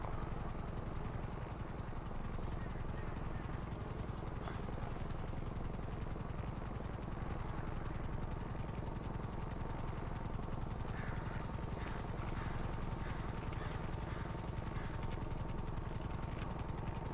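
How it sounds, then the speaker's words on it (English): A helicopter in a roleplay video game flies overhead and hovers low, giving a steady, continuous rotor and engine drone that holds for the whole stretch at moderate level with no talk. "There's a random helicopter flying over it."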